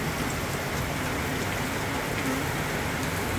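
Steady, heavy rain pours down on a road in a continuous hiss, close and loud throughout, with no voices.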